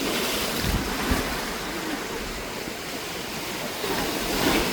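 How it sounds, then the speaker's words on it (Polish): Sea waves breaking on the beach at Funtana near Poreč, Croatia, a steady, loud wash of surf with gusty wind rumbling on the microphone and no voices. "Za duże fale są."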